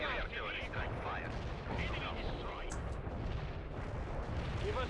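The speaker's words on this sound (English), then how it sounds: "Artillery strike hits the mark." Artillery strikes in a war video game, a dense rumbling barrage of booms and gunfire that carries on without a break, with voices talking faintly underneath.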